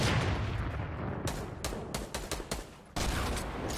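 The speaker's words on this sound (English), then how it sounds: "Oh, I'm getting shot at. From 150, somewhere." Rapid bursts of gunfire crackle in a shooter video game, volleys of shots from a distant enemy firing in dense clusters, loud and continuous with brief gaps between flurries.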